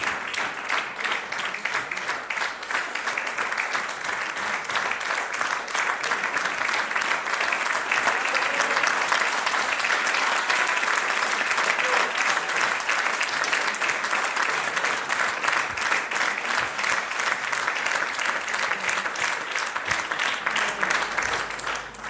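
An audience at a book launch claps steadily for over twenty seconds, a dense, sustained roar of many hands that builds slightly and holds before fading at the end, with a few voices mixed in.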